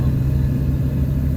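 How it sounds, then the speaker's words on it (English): Truck passing outside an open car window, a loud continuous low rumble and engine drone that stays steady and close throughout the short clip with no talk. "I'm sorry, there's a truck."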